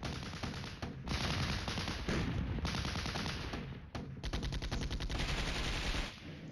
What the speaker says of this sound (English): Still shooting at that observation helicopter.